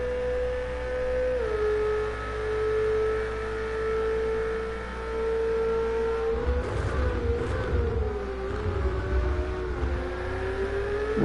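A Ferrari race car laps the Indy road course during a qualifying session, its engine holding a loud steady howl that shifts pitch with gear changes and revving, then rough bursts as it slides through corners.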